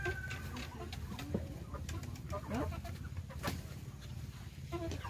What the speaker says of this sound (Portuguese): aqui a gente agora vamos alimentar aqui as galinhas